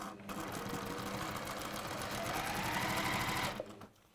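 Sewing machine stitching fabric pieces right sides together toward a corner, a fast continuous whirring stitch run that speeds slightly then cuts off abruptly, close up with no voices.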